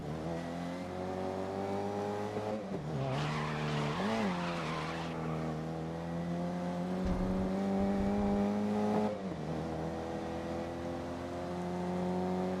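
A go-kart drifts through a corner in GRID (2019), its engine droning with a steady pitched whine while tires squeal loudly mid-slide, then the motor settles back into a sustained hum.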